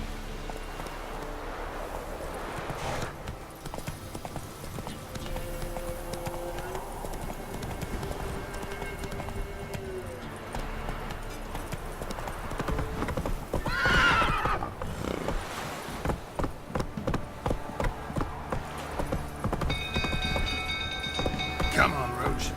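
Horse Roach galloping in The Witcher 3: continuous hoofbeat clip-clop with whinnies and neighs, under game music and ambience throughout, with the hooves growing louder and more rhythmic toward the end.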